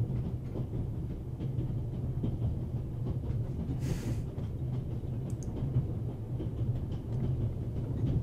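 A train in the video game The Raven: Legacy of a Master Thief rolls along the rails with a steady, dense low rumble throughout, broken by a brief hiss midway and a couple of faint metallic ticks.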